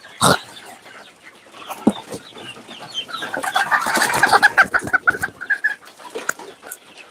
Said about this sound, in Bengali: আপনারা স্ক্রিনে দেখতে পাচ্ছেন আমাদের মিশরীয় ফার্মি মুরগিগুলো